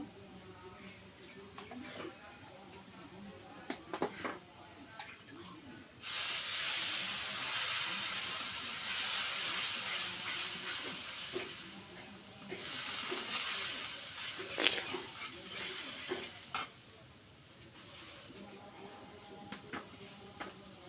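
Chili and salt with turmeric stir-fried in hot oil in a pan give a loud hissing sizzle that surges in two long bursts between quieter stretches, with a voice talking over parts of it.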